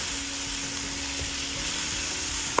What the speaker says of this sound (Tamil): சேர்த்துட்டு இது எல்லாமே நல்லா வதங்கட்டும் கொஞ்ச நேரம்.